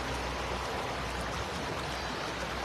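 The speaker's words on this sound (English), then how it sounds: "the sound of the river" Steady, dense rushing of a flowing river fills the whole stretch, even and unbroken at moderate loudness with no voices.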